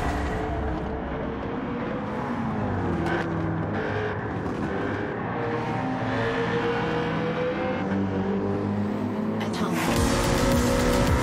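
An engine-swapped Pantera race car in Gran Turismo 7 roars down the straights, its loud, steady engine drone climbing in pitch through gear changes and swelling louder toward the end.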